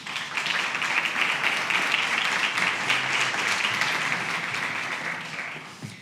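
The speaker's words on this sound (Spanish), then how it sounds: "Un aplauso para ellos." An audience at an architecture and rehabilitation conference applauds the panel speakers, a dense, steady wash of clapping that swells quickly and holds for several seconds before fading slightly.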